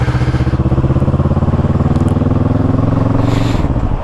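A motorcycle ridden through England, its engine loud and close with a rapid pulsing throb that holds steady, then winds down as the revs fall near the end.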